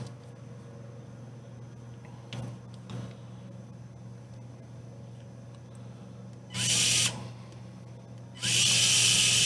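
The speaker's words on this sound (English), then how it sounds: "I'm going to connect the top over there with another baby screw." A small screw is driven into the cage of an INJORA IR60 pickup truck model. After faint clicks and handling noise, two short, buzzing bursts from a small electric driver come in close and fairly loud.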